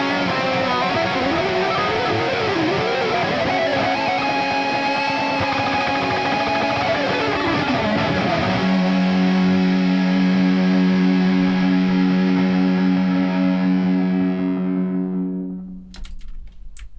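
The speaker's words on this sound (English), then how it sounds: "This is what all those guitars sound like during the outro." Several layered guitars playing a song's outro, a dense, distorted wall of sustained chords with sliding pitch movement, settling into a held ringing chord that fades out near the end.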